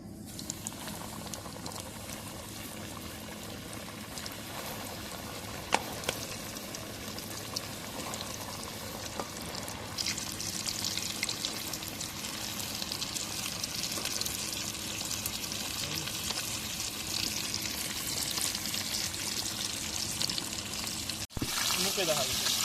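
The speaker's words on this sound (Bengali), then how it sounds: "চিকেন লেগ পিসগুলোকে গরম তেলে ভেজে নিচ্ছি।" Chicken leg pieces fry in hot oil for KFC-style fried chicken, a steady bubbling sizzle that holds throughout at a soft level, with a faint knock or two partway.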